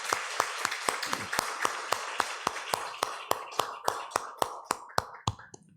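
Slow, evenly spaced claps from a church congregation during a Sunday worship service, about twenty sharp strikes in a steady rhythm at moderate distance, alone without talk.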